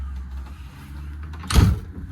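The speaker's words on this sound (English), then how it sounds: "Let me close this door." A quiet low hum, then a single short thud as the door of a 2018 Fleetwood Bounder 33C motorhome is pulled shut close by.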